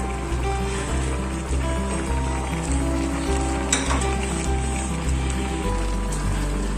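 Hot oil sizzles steadily in a pan while paksiw na bangus (milkfish) is being cooked, a continuous close crackling hiss over a low humming background, with no voices.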